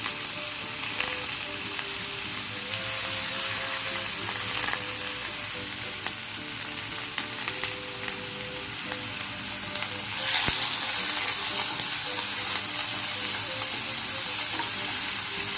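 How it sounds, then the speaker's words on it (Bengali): Carrot, onion and cucumber pieces frying lightly in hot oil for an egg roll filling, a continuous soft sizzle with occasional stirring scrapes, close and steady, brightening into a louder crackle near the end. "এখানে গাজর, পেঁয়াজ, শসা এগুলোকে একটু সামান্য হালকা ফ্রাই করে নেব যাতে নরম হয়ে যায়।"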